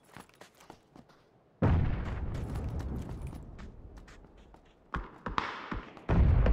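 Gunfire in PlayerUnknown's Battlegrounds: a few sharp distant shots and taps, then a loud sustained burst of close firing and blasts, ending in another heavy volley.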